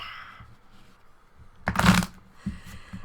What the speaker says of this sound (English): I'm gonna do a riffle shuffle for sure